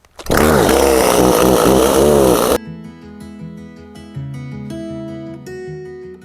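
A gas-powered chainsaw roars loudly at close range for about two seconds with a revving, pulsing engine note, then cuts off abruptly as music takes over.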